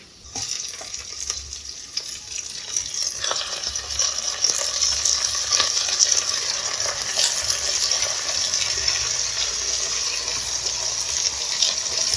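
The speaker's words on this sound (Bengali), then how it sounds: "এবার ওর মধ্যে মাংসটা দিয়ে দেবো, দিয়ে কিছুক্ষণ ভেজে নেবো।" Mutton fried with browned onions in a pan, a loud, steady close-up sizzle with bursts of hissing and occasional stirring scrapes throughout, no voices.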